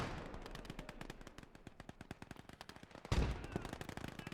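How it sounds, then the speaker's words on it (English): Rapid machine-gun bursts of suppressing fire crackle continuously in the World War II game Gates of Hell, with a heavier blast standing out near the end of the string of shots. "Nice little suppression fire"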